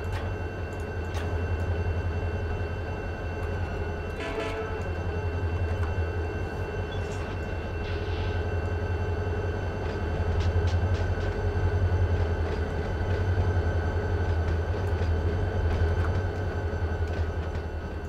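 Diesel locomotives idling and working in the Run 8 train simulator game, a steady low engine drone with a constant hum, occasional metallic clanks and a brief rattling burst partway through, no voices.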